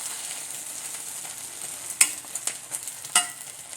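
Bread egg frying in a pan with ghee poured over it and then flipped: a soft steady sizzle with a few crisp clicks and scrapes of the spatula, no voices.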